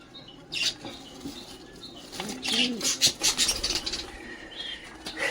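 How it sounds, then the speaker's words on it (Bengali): Local domestic pigeons nesting on two eggs make soft, nearby cooing calls mixed with wing flaps and faint scratchy rustling, in irregular bursts that grow busier toward the end. "এদিকে আমার দেশি দেশি পায়রাটা এরা কিন্তু বন্ধুরা দুটো ডিম নিয়ে বসে আছে"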